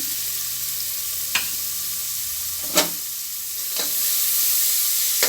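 Onions frying in oil in a pan while a mutton curry is prepared, giving a steady soft sizzle with a few sharp clicks or taps on top and no talking.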